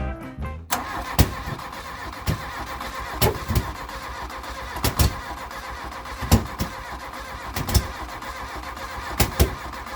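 A long-stored Mk1 Volkswagen Golf engine cranks repeatedly without catching. A rhythmic starter churn is heard up close, with sharp periodic clicks and thumps across the ten seconds and no talk.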